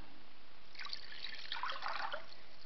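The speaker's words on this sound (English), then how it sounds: "if I take one of these glasses and I pour it out into this bowl" Water poured out of a drinking glass into a bowl makes a faint, close trickling splash that runs for about a second and a half, with no talk.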